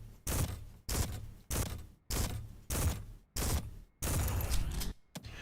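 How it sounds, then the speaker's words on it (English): Shotgun fire in Dark Souls Zwei booms in a steady series of about seven heavy blasts roughly 0.6 seconds apart. Each loud report decays quickly into a short gap, and the final shots come closer together. "The shotguns, though, it's definitely faster with the shotguns"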